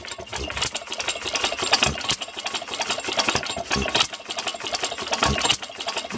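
A hit-and-miss stationary engine with a governor arm and a repaired bronze slipper runs steadily, close and loud, giving a busy mechanical clatter of rapid ticks and pulses with periodic heavier firing beats, and no talk over it.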